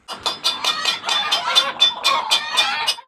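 Stressed Sussex chickens in a backyard cluck noisily and repeatedly, a rapid, agitated run of close squawking calls with no talking.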